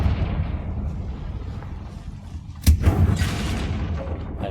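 A Confringo blasting spell goes off in the video game Hogwarts Legacy, one sudden booming explosion midway, followed by a rumbling tail over low background ambience.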